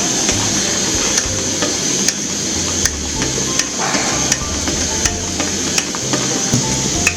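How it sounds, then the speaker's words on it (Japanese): Hand pump on the fuel tank of a Coleman 508A gasoline camping stove worked in steady strokes, regular sharp clicks roughly every 0.7 seconds over a constant burner roar, close and loud, no talking. "開けてまたポンピングをします"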